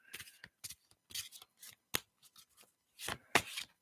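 An Egyptian tarot card deck being shuffled by hand, a series of soft papery riffles and slaps in irregular bursts, close and quiet with short pauses between them.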